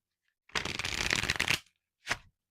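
A deck of tarot cards riffled in one close, loud burst of rapid fluttering snaps lasting about a second, then a brief second shuffle after a short pause, with no talk.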